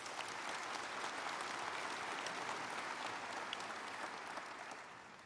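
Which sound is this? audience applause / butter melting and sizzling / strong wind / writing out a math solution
audience applause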